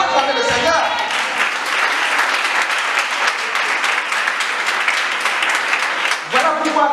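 Church congregation applauding and cheering at a youth ministry launch, a loud dense wall of clapping that holds steady for several seconds with a voice briefly heard at the start and end.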